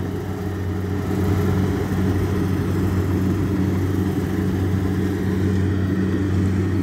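A Kubota DC60 combine harvester with a V2403 engine runs steadily in a rice field, a loud continuous low drone with a constant rumble and no pauses or talking.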